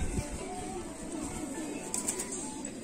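Faint, drawn-out pigeon coos from a hen in a Jammu pigeon keeper's flock sit low in a noisy outdoor background, with no one talking.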